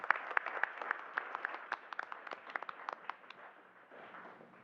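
Scattered hand clapping from a small group at a school board meeting, individual claps distinct and uneven, moderately near, tapering off after a few seconds.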